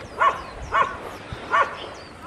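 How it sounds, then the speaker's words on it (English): Wild dogs bark in a pack, with three distinct barks at an uneven pace, moderately distant, over faint background noise. "there's more barks"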